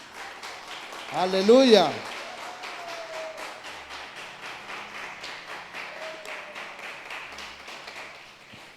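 A church congregation claps in a steady patter throughout, while a voice calls out loudly near the start and speech carries on over the applause.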